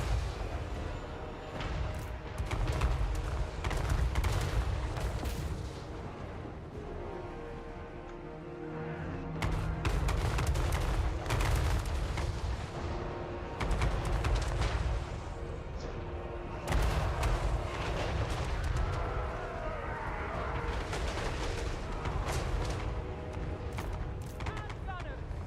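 Artillery fire in Total War: Warhammer III, a continuous rumble of heavy booms and shell impacts filling the battle, loud and dense throughout, with a voice talking over parts of it.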